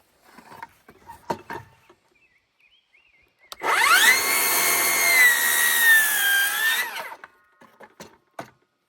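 A power tool cuts a notch into the end of a wooden gazebo beam, a loud steady whine lasting about three seconds between quieter handling knocks and shuffling.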